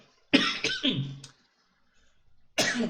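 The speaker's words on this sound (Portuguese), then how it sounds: "desculpa, essa tosse está horrível" Two bursts of harsh coughing close to the microphone, separated by a brief pause.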